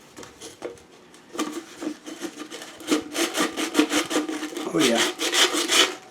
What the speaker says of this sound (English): So I'll take this can, some very fine sandpaper.